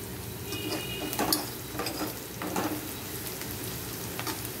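Onions frying in a pan for mutton curry, a steady soft sizzle with occasional scraping stirs, fairly quiet and close, no talking.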